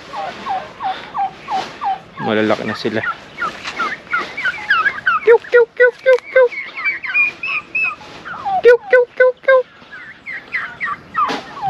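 Turkeys on a farm gobbling in rapid, repeated warbling calls from several birds, loud and close, with a voice speaking briefly among them.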